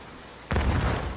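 A grenade explosion in the video game Division 2, a single sudden loud boom after a quiet moment, followed by a brief rumbling tail.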